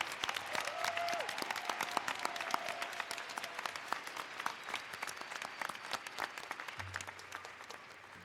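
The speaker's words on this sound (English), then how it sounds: "Let's give him a great round of applause." Sustained applause from a commencement audience honouring a retiring band conductor, many hands clapping evenly at a moderate distance, with no talk over it.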